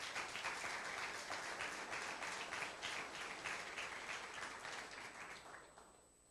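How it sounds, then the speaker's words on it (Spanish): A congregation applauds to welcome Evangelina at a church service, broad steady clapping that starts full and gradually thins and fades out toward the end, with no talking over it. "Le damos un aplauso a Evangelina"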